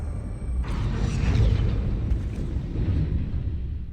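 A spell cast in the Hogwarts Legacy video game sets off a loud, deep whooshing burst that swells and rumbles for a few seconds before easing slightly, heard alone without talk.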